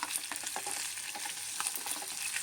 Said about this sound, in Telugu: ఇలా దోరగా వేయించుకోండి